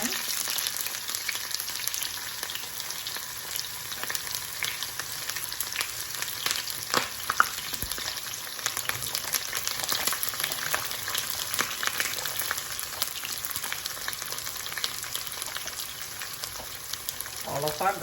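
Garlic, curry leaves and onion fry in hot oil for dhal curry, giving a dense continuous sizzle with scattered crackles and pops, close and steady throughout.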